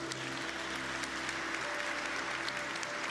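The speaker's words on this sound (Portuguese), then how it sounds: "Pode dar uma salva de palmas para Jesus?" A church congregation applauds during a worship service, a steady dense wash of clapping from a large crowd lasting about three seconds, with a faint low hum running underneath.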